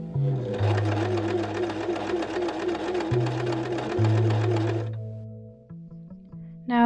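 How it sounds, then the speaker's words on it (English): A sewing machine stitches a short fabric seam in a fast, steady, close-up run of about four seconds, then stops, leaving brief handling noises. "sew one of the short seams together"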